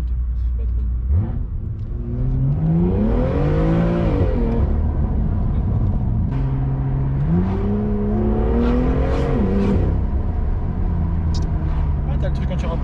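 A BMW M2 with a Milltek exhaust revs in two rising and falling engine sweeps, loud and close, with a steady idle rumble between them.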